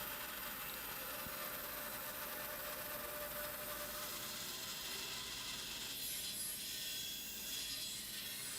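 A bandsaw cutting a second slot into a guitar body, producing a steady, continuous whirring and rasping drone that runs unbroken throughout with no talking.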